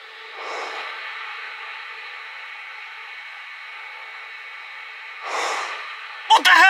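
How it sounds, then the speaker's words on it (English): A person breathing while asleep, recorded overnight: a long, steady hiss of air with two louder swelling breaths, like snorts or gasps, near the start and end, followed by a brief clatter. "This is me breathing when I'm asleep."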